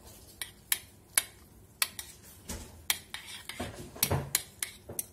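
Pasta plated for a halal carbonara is stirred with grated Parmesan on top, with a quiet run of sharp metal taps and scrapes as cutlery strikes the plate at an uneven pace, close and fairly loud, with no talking.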